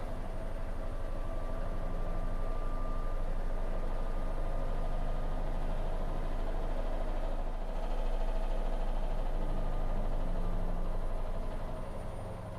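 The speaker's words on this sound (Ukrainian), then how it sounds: "Ось так, друзі, машинка працює на максимальних обертах." A Candy RP4 washing machine spins at maximum speed, about 800 rpm, giving a steady, fairly quiet whirring hum with a faint high whine that holds evenly for the whole stretch, with no talk.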